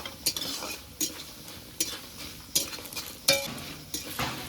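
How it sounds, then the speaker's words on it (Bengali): Lentil dumplings frying in a pan of oil, a soft background sizzle broken by sharp clinks and scrapes of a spatula stirring every second or so, close and fairly quiet. "ভালো করে বড়িটাকে ভেজে নিতে হবে বড়িটা ভাজা হয়ে গেছে"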